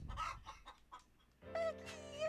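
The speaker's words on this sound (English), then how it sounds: "There's the chicken." Chicken clucking in the video game Like A Dragon Infinite Wealth, a short run of bright clucks and a crowing call heard up close and fairly loud, with no talk over it.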